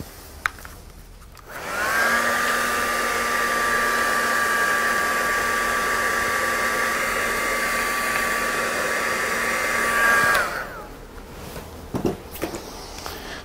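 A heat dryer blows steadily for about eight seconds over mixed media tags, switching on and off cleanly, with a loud even whir and a faint whine in the tone.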